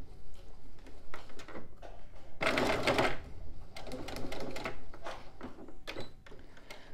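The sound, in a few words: sewing machine stitching a fabric pouch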